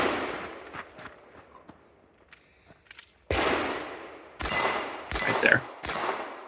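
Gunshots at a two-gun shooting competition, several sharp loud reports in the second half, some in quick succession, following a quieter stretch of faint clatter and distant pops.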